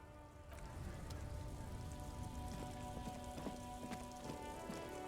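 Rain patters steadily on hard surfaces in Disco Elysium, a soft, even wash of drops with a few sharper taps standing out.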